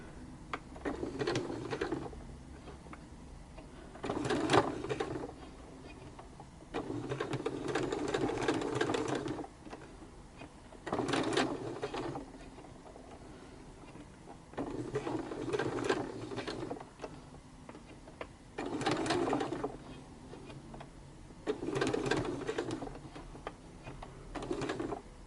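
A sewing machine stitches fabric flowers in bursts of rapid, even mechanical whirring, each lasting a couple of seconds and separated by short quiet pauses, close and clear with no talk.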